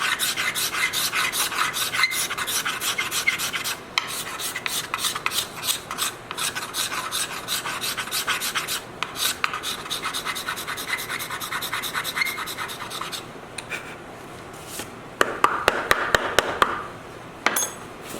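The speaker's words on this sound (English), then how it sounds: "all I'm doing is a final scrape with a nice sharp scraper card over that inlay" A sharp steel scraper card rasps steadily across the inlay of a spruce-topped violin in close, continuous strokes, pausing briefly now and then before a few quicker, brighter passes near the end.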